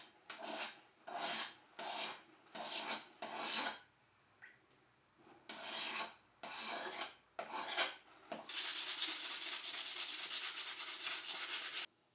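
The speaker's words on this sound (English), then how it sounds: "apparently you can just sand it" Repeated rasping strokes of wet sandpaper, about a dozen rhythmic back-and-forth rubs, then a steadier continuous scraping near the end; close and moderately loud, no voices.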